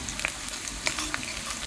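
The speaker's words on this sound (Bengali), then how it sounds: "পেঁয়াজ কুচিটা আমি একটু লাল লাল করে ভেজে নেব।" Chopped onions frying in hot oil with bay leaf, dried chilli and whole garam masala, a steady close sizzle with a few sharper crackles and faint stirring scrapes, no voices.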